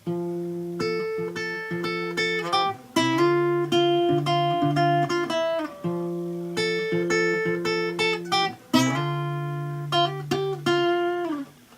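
A clean, melodic electric guitar riff from the intro of a song plays on its own, a repeating phrase of picked notes with slides and sustained tones across several bars.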